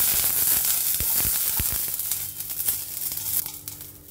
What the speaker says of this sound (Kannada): ಇಷ್ಟನ್ನೀಗ ಸ್ವಲ್ಪ ಎಣ್ಣೆಯಲ್ಲೇ ಹುರ್ಕೊಳ್ತೀನಿ.